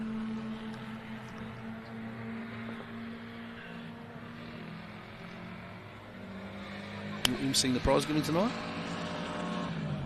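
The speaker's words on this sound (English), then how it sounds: "Just getting their last few skids in." Rally cars drone and skid in the distance at a New Zealand Rally Championship stage in South Canterbury, with a low steady engine hum; a person speaks briefly near the end over the noise.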